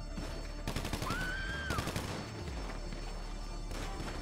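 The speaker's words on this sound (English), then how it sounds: "Don't run in front of me when I'm shooting." Rapid automatic gunfire rattles in the online game GTA Online, a burst of quick repeated shots followed by a further spell of firing over a steady game background.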